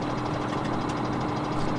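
A tractor engine idling in Farming Simulator 17, a steady, close, throbbing drone with a faint knocking rhythm running evenly throughout, no voices.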